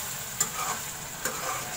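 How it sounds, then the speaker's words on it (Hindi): A spoon stirs chicken masala in a pan over a soft sizzle, with two brief scrapes against the pot standing out from the low, steady frying. "इसको मैं थोड़ा सा ज़्यादा चम्मच से चलाऊँगी।"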